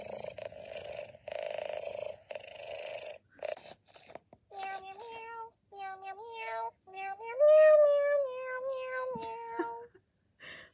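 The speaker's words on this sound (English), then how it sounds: "That's making Winks close his eyes and" A 2007 Scoozie robotic pet ferret purrs in bursts of low rumbling, then shifts into rising and falling electronic tonal warbles, close and fairly quiet with brief gaps between phrases.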